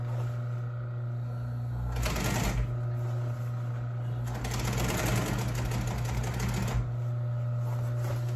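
An industrial sewing machine stitches the top seam of an upholstery cover, running in two bursts of rapid, steady stitching with a pause between them, close and fairly loud over a constant low electrical hum.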